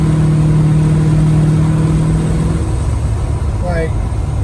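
The car called Maui Carlo, with a 4-barrel carburetor, runs loud and close: a steady engine drone holds for a couple of seconds, then drops lower and rougher, with people talking over it.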